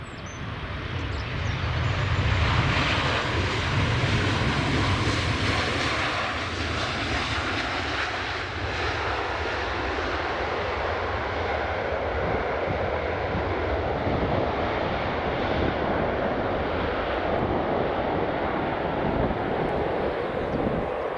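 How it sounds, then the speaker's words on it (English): A Ryanair Boeing 737-800 jet lands at Edinburgh Airport, its loud, continuous engine roar filling the whole stretch and swelling slightly early before holding steady. "You're just going to see Ryanair 737-800 landing from our left to right"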